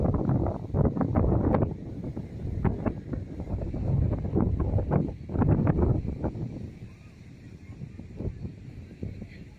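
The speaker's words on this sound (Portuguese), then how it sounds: "Bastante vento aqui," Strong wind buffets the microphone on a high hilltop overlooking a park, a loud, steady rumbling roar with irregular gusts throughout and no other sounds.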